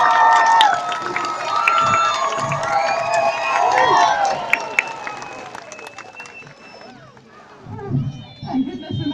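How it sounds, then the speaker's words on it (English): A crowd of children and adults at a sea lion show claps, cheers and shouts loudly and continuously, fading a little before rising again. A voice talks over it. "I am going to get you all clapping and cheering loud as you can."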